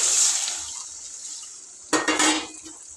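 Water poured into a pan of green chicken gravy cooked with ginger-garlic paste, a soft splashing hiss fading out, then a brief clatter of a utensil against the pan, close and fairly quiet.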